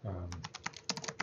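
Someone types on a computer keyboard and then hits the enter key, a run of crisp, separate key clicks at an uneven pace, heard up close after a brief low murmur at the start.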